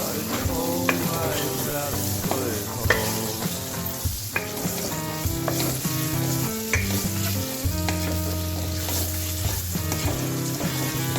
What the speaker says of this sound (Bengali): হলুদ গুঁড়ো দিয়েও এইভাবে লো ফ্লেমে একটু নাড়াতে থাকবো